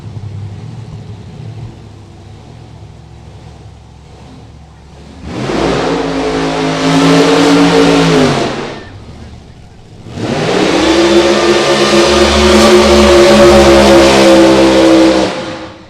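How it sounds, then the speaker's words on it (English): Two long, loud bursts of a funny car engine roaring through a burnout at a drag strip, a '55 Chevy and a '78 Monza, each rising to a sustained high-revving blare over a lower idling rumble, with commentary beneath. "Oh, is that a burnout on the AAA side of the track?"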